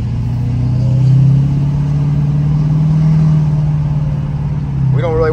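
A car fitted with an upgraded SPE Motorsport fuel filter system with CAT filters accelerates gently around a corner, its engine a steady, loud in-cabin drone that rises slightly and then eases.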